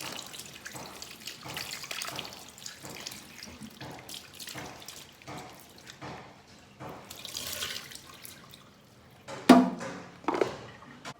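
Okra being rinsed under a running kitchen tap, water splashing steadily into a sink with irregular drips and gushes, a louder splash burst near the end, no talking.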